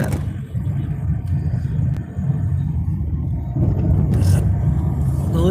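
A car rumbles past on a road, a steady low engine roar that swells slightly toward the end, with no talk over it.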